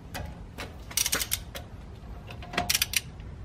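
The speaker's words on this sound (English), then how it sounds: "I'm going to loosen the caliper bolts with a 19mm" A 19 mm wrench loosens the front brake caliper bolts on a 2007 Cadillac Escalade, producing quick clusters of sharp metallic ticks and clicks in bursts, close up, with quiet gaps between strokes.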